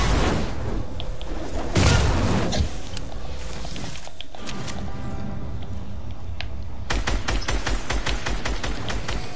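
Rapid bursts of video game gunfire and booming shots, with dense crackling volleys and a final stretch of quick repeated shots.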